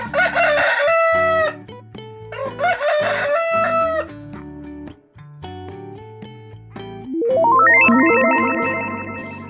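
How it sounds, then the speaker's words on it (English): A rooster crows several times in a row, the loud cock-a-doodle-doo calls close up, then a rising musical chime plays alone at the end. "It is a rooster."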